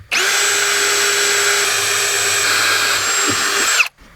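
Cordless drill driving a screw to mount a grab bar on a boat, one loud continuous high whine lasting nearly four seconds, ending with a brief clunk and sudden stop.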